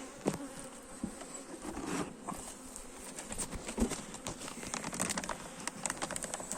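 Honey bees buzz densely around an opened beehive during an inspection, a close, continuous swarm hum with scattered sharp knocks and clicks from handling the hive.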